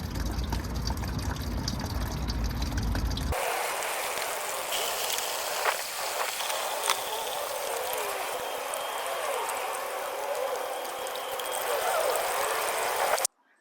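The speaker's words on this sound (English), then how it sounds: "we just finished draining the coolant completely" Coolant running out of the radiator of a Ford Mustang GT S197, a steady broadband liquid rush after a sudden start, continuous and fairly loud with small splashes, no talking.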